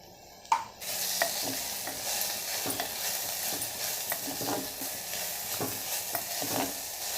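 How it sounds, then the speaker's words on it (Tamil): Onions and tomatoes sautéing in a mud pot, a soft steady sizzle with repeated scraping strokes of a stirring spoon, close and fairly quiet, one sharp clack near the start. "கொஞ்சம் நல்லா வதங்கட்டுங்க."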